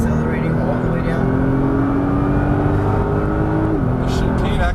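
A Nissan GT-R accelerates hard down a race circuit straight, its engine droning loud and rising steadily in pitch from inside the cabin, with a voice talking over it.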